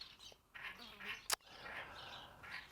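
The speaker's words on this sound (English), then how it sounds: "Yeah, we have lots of birds." Several birds call outdoors, overlapping raspy and chirping calls at a low level, broken by one sharp click midway, with no one speaking.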